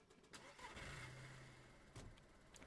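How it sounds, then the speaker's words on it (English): A car engine starts in the DayZ Expansion video game, with a quick cranking burst, a low turnover and then a brief rev. It is very faint and distant-sounding, with a short click near the end. "Turn on the car."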